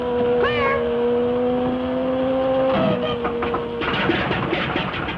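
A cat gives a couple of drawn-out meows near the start against a steady mechanical hum, then the background changes to rougher noise.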